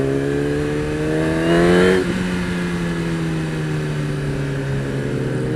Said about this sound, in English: This thing also backfires.